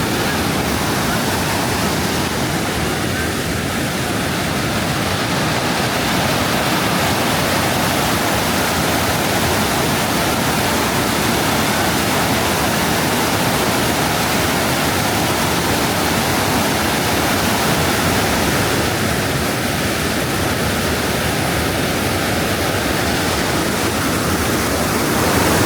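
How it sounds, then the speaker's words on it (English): At Multnomah Falls in Oregon, river water crashes down onto rocks on a foggy day, a loud, close, unbroken roar of rushing water that holds steady throughout. "river coming down on these rocks."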